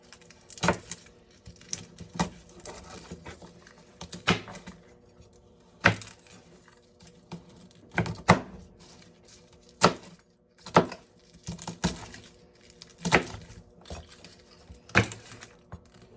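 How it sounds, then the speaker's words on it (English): Knife rough-chopping vegetables with their skins left on for fire cider, a series of sharp, irregular chops against a board, close and fairly loud, with quieter knocks and handling between strikes. "I'm just going to kind of rough chop these"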